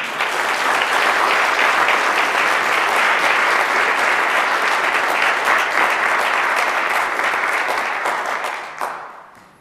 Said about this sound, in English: Let us give Representative Welch yet another round of applause.